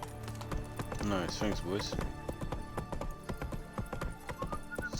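Horse hooves clip-clop at a steady galloping rhythm in The Witcher 3 video game, with a brief whinny, set against game music while someone speaks over it.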